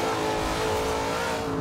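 The engine of a 2015 Corvette Z06 in the video game Forza Horizon 2 holds a loud, steady throttle, a close, continuous mid-pitched engine note with no break.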